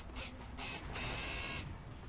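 A Mazda 323 power window regulator motor whirs in three bursts as it raises the window, two short pulses and then a longer run of about two-thirds of a second, each with a high, thin mechanical whine, faint and close.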